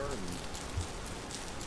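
Steady, faint patter of rain falling in the video game Vintage Story, a soft continuous hiss with a brief voice over it.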